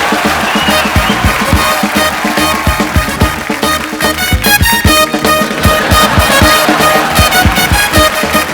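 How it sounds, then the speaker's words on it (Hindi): A studio audience at the Kapil Sharma Show claps loudly as a guest is welcomed, with steady applause mixed with music carrying a strong rhythmic beat. "तो आप सबकी जोरदार तालियों के बीच इनवाइट करना चाहूंगा वेरी टैलेंटेड"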